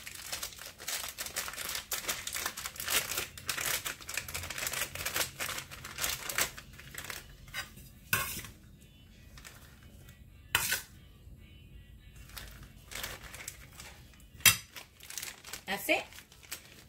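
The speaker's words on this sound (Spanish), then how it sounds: "La fresa picada la vamos a poner en las bolsitas directamente." Crisp plastic bags crinkle and rustle as chopped strawberries are dropped into them for frozen strawberries-and-cream treats, in irregular bursts separated by quiet gaps, close and fairly soft.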